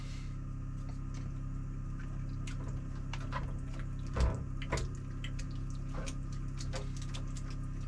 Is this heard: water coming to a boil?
yes